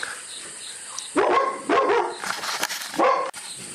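Several dogs bark in short loud bursts, a cluster of sharp barks followed by a couple more yaps after a pause, close and clear over a quiet background.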